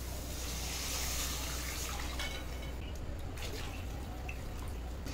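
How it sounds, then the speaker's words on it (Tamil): Water pours into a cooking pot for vegetable soup, about a litre in total, making a close, continuous splashing rush that fades toward a lighter trickle. "நான் வந்து இதுக்கு 1 லிட்டர் அளவுக்கு தண்ணி ஊற்றுறேன்."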